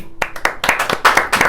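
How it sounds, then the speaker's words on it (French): Scattered audience clapping breaks out in a small hall during a conversation event with Patrick Haddad, a handful of distinct hand claps that start sparse and thicken into a short burst of applause. "Et on peut applaudir quand même."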